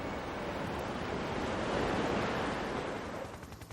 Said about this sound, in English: These are the waves that bring massive destruction to coastal communities.